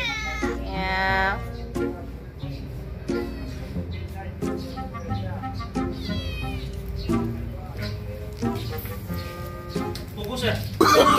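Kittens meow repeatedly in bright, overlapping cries, close and fairly loud, with a person talking over them throughout.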